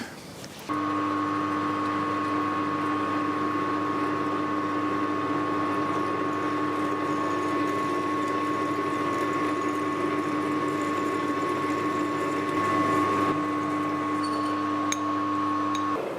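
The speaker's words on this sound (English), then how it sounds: "Let's back up and put the 1/2 inch drill in, which should be a more severe test. We'll slow him down." A drill fitted with a half-inch bit runs at slow speed, holding a steady, even motor hum with a clear tonal whine from start to finish, close and unbroken.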